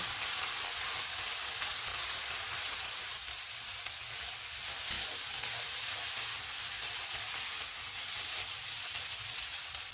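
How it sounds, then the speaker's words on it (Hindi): Potatoes and chicken fry in a pan for an aloo chicken spring roll filling, giving a steady, dense sizzle that holds evenly for the whole stretch with no talking over it. "आलू डालेंगे, चिकन डालेंगे, इनको 2 से 3 मिनट तक भूनेंगे।"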